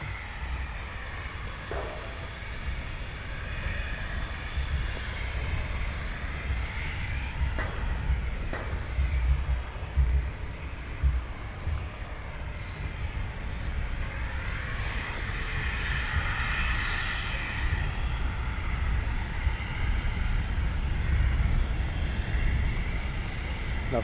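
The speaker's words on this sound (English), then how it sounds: "You should get an aircraft coming from right to left any second now." RAF Typhoon jets taxiing at RAF Coningsby, a steady distant jet engine roar and rumble that swells slightly toward the end, with faint sounds from nearby but no clear talk.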